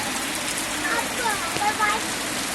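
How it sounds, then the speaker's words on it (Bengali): Steady rain falls during a hot spell, a dense even hiss filling the scene, with brief faint tonal chirps drifting over it and no clear talk. "বৃষ্টির শব্দে শুনতেছে না"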